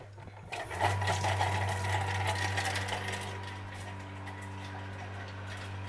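A food processor whirs loudly for about six seconds on speed 8, blades chopping beans into a spread with a buzzing motor hum that eases off toward the end.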